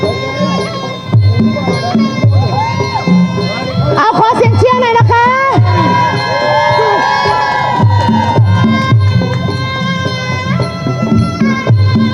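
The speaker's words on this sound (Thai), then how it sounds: "ใครใครเชียร์รัสเซียขอเสียงหน่อยค่ะ" A crowd at a Muay Thai bout between Russian and Italian fighters at a Songkran festival in New York cheers and shouts, loud and sustained, mixed with voices and music.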